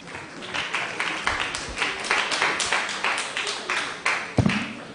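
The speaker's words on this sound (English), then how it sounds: "Please give him a hand of applause." Audience applause at a school event at the podium, with loose, uneven hand claps rising and falling over five seconds, fairly close and fading in bursts.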